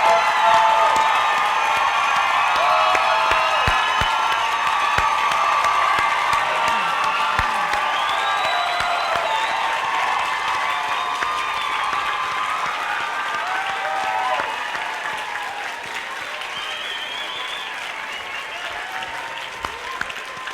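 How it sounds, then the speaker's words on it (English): Sustained applause from a large audience at a college commencement ceremony, greeting newly graduated students; steady dense clapping with a few cheers and whoops, easing slightly toward the end. "Let's give them a well-deserved round of applause."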